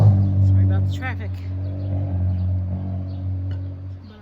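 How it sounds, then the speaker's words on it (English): Traffic rumbles past on a major street beside a home garden, a steady low engine drone with one car passing close early on, heard under a voice talking. "Sorry about the traffic."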